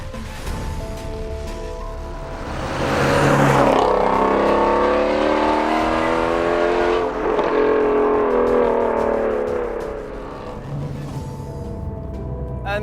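A Ford Shelby GT350R Mustang's flat-plane-crank V8, redlining at 8,200 RPM, revs hard and climbs through its range, then eases off and builds again, loud and close.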